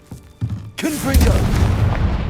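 A Confringo blasting spell goes off in the Hogwarts Legacy game: a couple of short thumps, then a loud booming burst that rolls into a sustained rumbling explosion.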